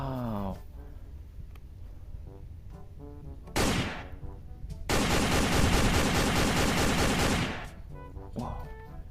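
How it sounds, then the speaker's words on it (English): Toy Captain America gun firing electronic shooting effects, a short burst and then a longer loud rattling volley, with a voice talking briefly between them. "This is Captain America gun."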